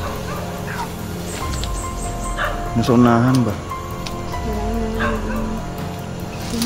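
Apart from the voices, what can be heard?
dog barking in a video game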